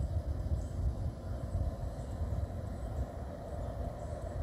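A distant freight locomotive approaches in dynamic braking, a low, steady rumble with a droning roar that holds constant throughout, with no voices present.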